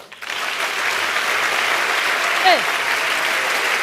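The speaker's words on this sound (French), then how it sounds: "Mesdames et messieurs, beaucoup d'applaudissements pour Charlotte Ntamak." Steady audience applause in a comedy theatre at an African stand-up show, even and continuous with a brief cheer or whistle rising over it midway.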